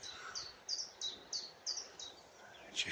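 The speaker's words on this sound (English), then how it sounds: "Oh, black. Just a black cap." A blackcap sings in the countryside, a faint series of short, bright repeated warbling notes at an even rhythm, somewhat distant over a soft outdoor background.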